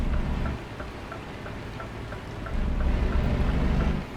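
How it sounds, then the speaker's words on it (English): Steady rain in the driving game Euro Truck Simulator 2, a dense continuous patter that swells a little louder toward the end, with no voices. "It's still bloody raining, so we'll get that on as well."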